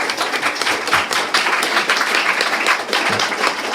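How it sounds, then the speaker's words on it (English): An audience breaks into loud, dense applause at a live talk event, sustained clapping continuing throughout with no voices. "Round of applause for ourselves."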